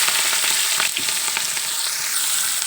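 Chopped onions, green chillies and tomatoes fry vigorously in a pan, giving a loud, dense, steady sizzle with faint crackles and a brief stir partway through.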